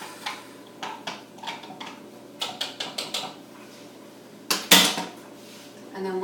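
Quinoa salad ingredients with oregano stirred together in a bowl, a close series of light clinks and scrapes in irregular bursts, ending with a sharper knock, no talking.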